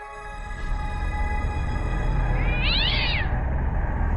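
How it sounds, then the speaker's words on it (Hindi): A single clear cat meow rises and falls over a steady low rumble, like an engine or traffic, with a faint tonal hum. "बिल्ली ने भी रास्ता काट दिया है"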